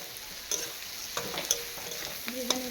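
Ingredients frying in a pan for a prawn and bottle-gourd-leaf paste, a soft steady sizzle close by broken by several light clinks and scrapes of stirring, with no voices.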